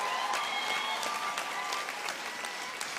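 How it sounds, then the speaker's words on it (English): Steady audience applause at a 2019 UNAM graduation ceremony in Windhoek, honoring a choir performer; dense, even clapping from a crowd holds for about three seconds with no talk over it. "I think we can give her a round of applause"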